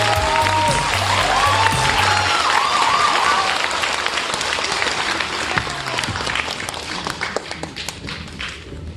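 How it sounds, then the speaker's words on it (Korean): Audience at a Mokdong apartment complex residents' meeting applauds a guest National Assembly member, steady broadband clapping from a sizable indoor crowd that gradually thins and fades toward the end, with music faintly underneath at the start. "황희 의원님 박수 부탁합니다"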